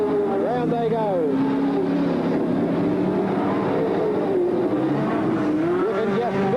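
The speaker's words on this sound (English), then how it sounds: "You can just feel the horsepower of these big cars as they go past" Big race cars roar past on the speedway track at Bagot Park in the Northern Territory, their engine notes rising and falling loudly as they pass, with a race commentator talking over them throughout.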